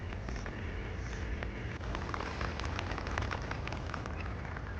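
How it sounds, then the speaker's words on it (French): Steady rain falls outdoors with dense, close pattering on surfaces and scattered louder drops, a continuous hiss with no voices. "Sous la pluie."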